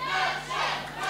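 A wrestling crowd roars and yells in one continuous, loud, close wash of voices that swells and dips slightly over about a second.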